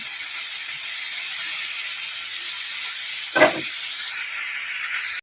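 Pre-fried chicken goes into a pan on high heat, giving a steady hissing sizzle with one short, louder burst midway.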